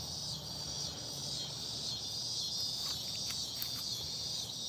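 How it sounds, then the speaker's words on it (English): Cicadas buzz outdoors in nature, a steady, dense high-pitched drone that holds at an even level throughout, with faint chirps layered over it and no talking. "Can you hear the cicadas?"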